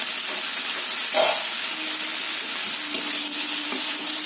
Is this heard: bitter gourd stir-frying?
yes